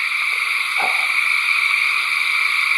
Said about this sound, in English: I'm sitting here listening to frogs